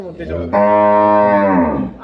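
A dairy cow of an improved milking breed, at a farm in Dinajpur, gives one long, loud, close moo that swells and fades over about a second and a half.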